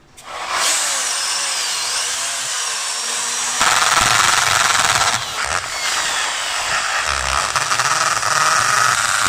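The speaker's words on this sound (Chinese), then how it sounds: "我们现在就已经把铁丝缠在了筷子上，然后把筷子放在了这个电钻上面。" An electric drill spins wire-wrapped chopsticks inside a watermelon to juice it, giving a loud, continuous whirring whine up close that shifts in pitch and load partway through, with no talk.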